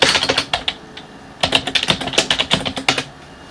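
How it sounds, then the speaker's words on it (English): Rapid clattering keystrokes on a computer keyboard as a search is typed, close and clear, in two bursts separated by a short pause, with no voices. "I'm just gonna type in spiral shell and see what comes up."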